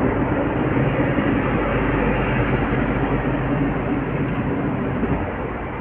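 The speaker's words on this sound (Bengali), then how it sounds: "আমাদের ট্রেন ছেড়ে বেরাচ্ছে 4:05-এ হাওড়া স্টেশন থেকে" A local train pulls out of Howrah station, giving a loud, steady, dense rumble and rattle from close by that carries evenly throughout with no voices.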